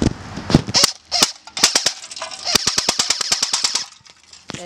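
BB guns firing at a can: sharp, snappy pops, some scattered and then a quick steady string of shots, close and crisp, fading to quiet at the end.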